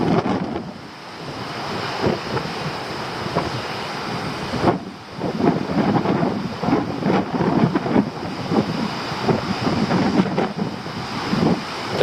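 Wind roars steadily through a summer storm at sea, gusting around a small fishing boat as breaking waves surge and crash in the background, loud and continuous throughout with no voices.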